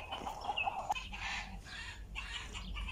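Chickens on a farm in Kuwait cluck in short, close bursts over steady outdoor background noise, with no voices.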